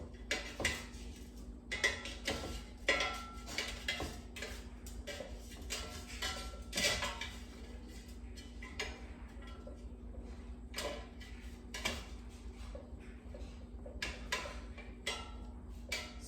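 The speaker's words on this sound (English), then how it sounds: "let's mix the hash browns using a spatula, just to make sure that nothing sticks to the bottom" A spatula scrapes and taps through frozen shredded hash browns in a metal air fryer basket, giving a series of light irregular clinks and scratches up close at a modest level.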